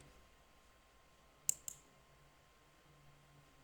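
Two quick, crisp computer mouse clicks close together, sharp and near, against a quiet room hum with no talking.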